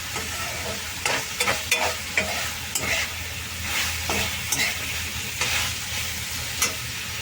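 Tomatoes and onions frying in a pan for a paneer-style egg curry, stirred with a utensil: a steady, close sizzle broken by regular scraping and knocking strokes against the pan, with no speech.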